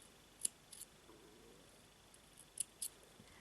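Scissors snip thread while a handmade bracelet is being made, giving a few quiet, sharp, close clicks spaced apart over near silence.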